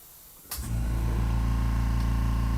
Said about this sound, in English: There's my compressor again.